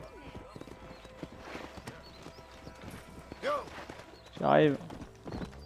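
Horse hooves clip-clop in Red Dead Redemption, a rapid run of soft hoof beats mixed with game voices, a brief spoken line and a couple of loud neighs or snorts toward the end.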